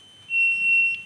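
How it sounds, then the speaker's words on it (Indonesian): A relay-triggered buzzer in a BNWAS bridge watch alarm built on an Outseal Mega V1 controller gives one steady, shrill electronic beep, starting abruptly and holding for most of a second before cutting off, with no speech. "Relay aktif sehingga buzzer juga aktif."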